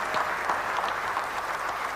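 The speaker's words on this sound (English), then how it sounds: "Applause from his fellow players and cricketing manager Mike Proctor" Applause at a Test cricket match for a batsman's maiden century: steady, moderately distant clapping from players and spectators, an even patter without peaks.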